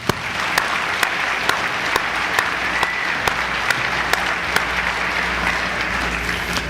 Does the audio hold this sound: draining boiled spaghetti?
no